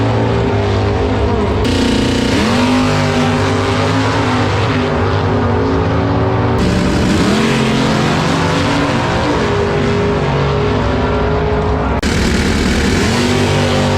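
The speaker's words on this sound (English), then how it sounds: "These are NHRA Superstock cars over there" NHRA Super Stock drag racing cars roar at the track, with very loud engine blasts revving and accelerating hard in repeated runs. Brief shifts and cuts break up a constant wall of motor noise.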